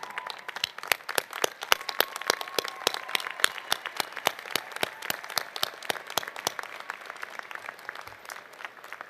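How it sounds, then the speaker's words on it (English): Graduates at a university winter commencement applaud in a large hall, with a sustained wash of clapping from many hands, moderately distant and steady, and no talk over it. "Graduates, why don't you stand up, turn around, and applaud those who helped you succeed."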